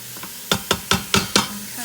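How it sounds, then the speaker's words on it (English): Ground turkey being broken up with a mix-and-chop tool in a hot pan, five quick scraping chops in a row, close and fairly loud, over a soft background sizzle. "I'm just gonna break it up with my mix and chop."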